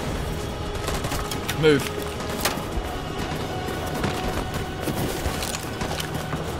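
Video game gunfire in Detroit: Become Human, with rapid overlapping shots and crackling bursts under a player's voice, plus a few sharper impacts amid busy background noise.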